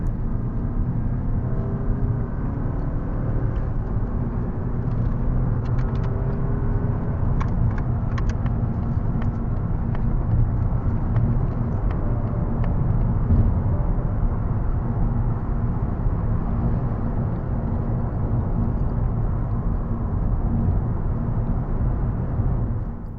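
A 2026 Mazda 3 automatic is driven hard, its engine and tyre roar a steady, close rumble from inside the cabin that rises and eases slightly, with faint clicks and rattles along the way.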